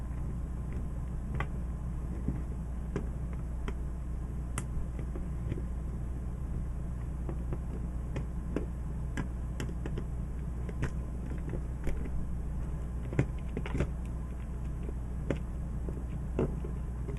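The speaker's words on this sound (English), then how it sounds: "take out 3 more screws to remove this" A small screwdriver unscrews screws from an N64 GameCube-style joystick, producing faint irregular creaks and tiny clicks over a steady low hum, with no talking.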